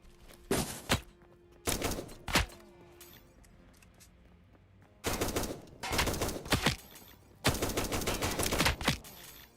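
Rapid bursts of gunfire from homing bullets in the video game Last Epoch, in several loud clusters with short quiet gaps between them, crisp and close.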